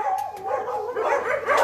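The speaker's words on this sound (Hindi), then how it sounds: "अब थोड़ा लाउड हो जाएगा क्योंकि ये अंदर कुत्ते भौंकेंगे" Dogs inside a rescue shelter on a farm give yelping, whining barks in a close, continuous run, several voices overlapping for under two seconds, with no talk.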